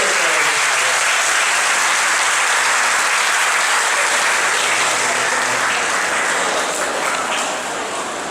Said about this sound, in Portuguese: Palmas para Helena.